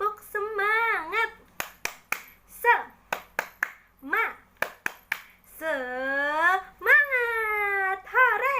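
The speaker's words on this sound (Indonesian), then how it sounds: "Yuk kita tepuk semangat dulu ya." A single voice leads a rhythmic classroom spirit clap for a primary-school math lesson, sharp claps and snaps in patterned bursts alternating with sung and chanted phrases, close and clear in a quiet room.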